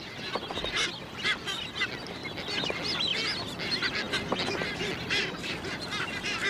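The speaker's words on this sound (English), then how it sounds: "The white booby shares its island home with a smaller number of brown boobies, with their distinctive dark hoods." Colony of brown and white boobies on Ascension Island, many harsh honking, goose-like calls overlapping continuously at moderate distance over a windy, noisy background.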